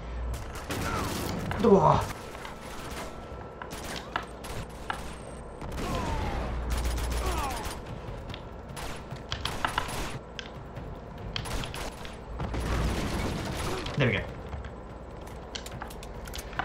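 Machine gun fire in the Uncharted 2: Among Thieves video game, scattered bursts of rapid shots mixed with clanking mechanical game effects and impacts, with a player's voice talking over parts of it.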